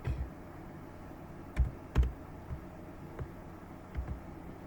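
A handful of soft, isolated keystrokes on a computer keyboard, spaced irregularly over a quiet room hum, the clearest clustered near the start and middle.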